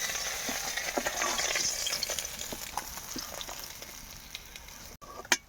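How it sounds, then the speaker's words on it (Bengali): Fish fries in oil in a pan, a constant close sizzle broken by stirring clinks and pops, fading slightly before a sharp clatter near the end; nobody speaks. "বাকি মাছগুলোও ভেজে নেব।"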